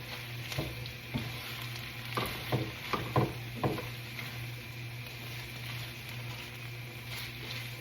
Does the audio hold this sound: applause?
no